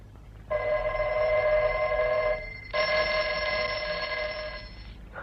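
A telephone bell rings in two long bursts with a short gap between them, loud and close in a quiet room.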